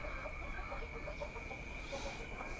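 KUB chickens on an Indonesian poultry farm cluck and chatter steadily at a moderate distance, several birds overlapping in a continuous murmur over a constant background hum.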